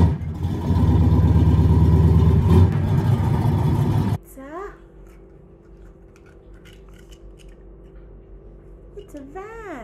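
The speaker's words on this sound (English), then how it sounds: "It's a van" A van's engine runs loud and steady with a revving drone, then cuts off abruptly partway through, after which a voice speaks quietly over a low background.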